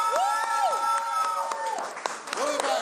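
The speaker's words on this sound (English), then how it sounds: "Let's have a big round of applause." Studio audience applause on a game show, a steady wash of clapping mixed with music tones and a voice talking over it.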